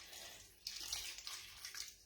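Water streams steadily into a slow cooker while chicken noodle soup is being made, a soft, continuous pour that sounds close by and quiet.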